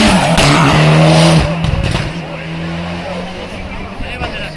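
A Ford EcoBoost rally car races past at the Garbí hill climb, loud engine roar with high revs and tire squeal peaking early, then fading into the distance as the revs drop.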